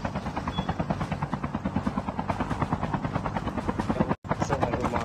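A video game helicopter's rotor beats with a fast, steady chop close by and loud, cutting out for a split second near the end.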